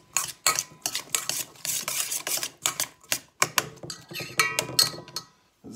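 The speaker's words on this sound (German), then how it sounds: "Jetzt rühren wir schon mal." Cucumber relish with salt being stirred in a bowl, a busy run of quick scraping and clicking strokes in uneven bursts, close and fairly loud, with no talk.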